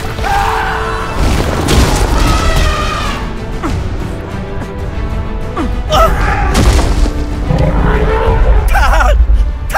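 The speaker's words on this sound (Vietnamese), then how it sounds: "Mau xây đại pháo lại, nhắm vào lũ voi, mau lên!" Cannon fire against war elephants in a dramatized historical battle, heavy booms and crashes layered over a dense roar of battle noise and shouting voices, loud and continuous throughout.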